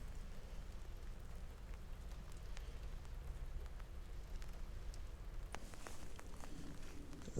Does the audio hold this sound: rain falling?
yes